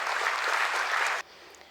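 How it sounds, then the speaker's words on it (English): Audience applause at a regional conference at the BSE International Convention Hall in Mumbai, a dense steady clatter of many hands that cuts off abruptly after about a second, leaving a quiet room. "And a big clap to all people who have made BSE survive 150 years."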